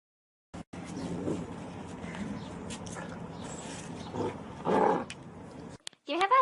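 A dog growls low and continuously for about five seconds, rising briefly near the end, before a person speaks over it.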